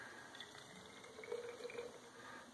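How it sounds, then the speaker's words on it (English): Hot water poured from a coffee pot into a container while making avocado honey mead, a soft, steady trickle of liquid that swells briefly midway, quiet and close with no talking. "I'm using probably a half a cup of hot water from the coffee pot to each container."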